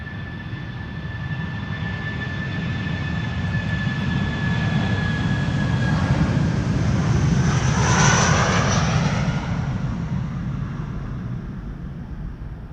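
A British Airways Airbus A319 departs Amsterdam Schiphol in a loud, steady jet roar that swells to a peak midway as it passes close by, then eases off. A high engine whine runs through the first half.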